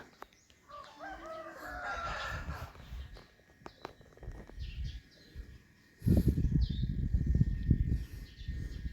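Chickens cluck and a rooster crows on a rice farm during rainy weather, the birds fairly close with scattered calls at first, then a dense rush of rain or movement noise takes over in the later part.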